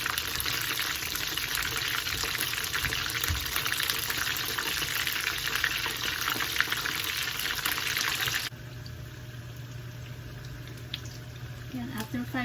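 Honey garlic chicken wings fry in a pan of hot oil, a dense, loud crackling sizzle that drops abruptly to a quieter bubbling hiss partway through.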